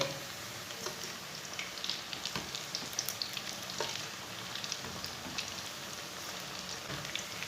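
Onion pakoras deep-frying in hot oil over medium heat, a steady dense crackling sizzle with scattered pops, close and continuous, with no voices.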